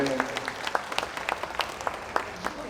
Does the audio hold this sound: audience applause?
yes